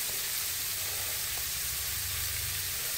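Shrimp sizzling steadily in a hot pan for a shrimp Florentine pasta, a continuous close hiss with a low rumble underneath and no talk.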